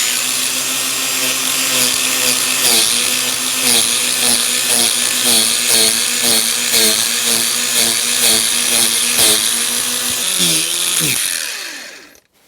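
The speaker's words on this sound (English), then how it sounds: "Just a sanding disc on an angle grinder." A battery-powered angle grinder with a sanding disc whines steadily and loudly while sanding a BSA motorcycle seat in cold weather, its pitch wavering as it bites into the surface, then winds down at the end.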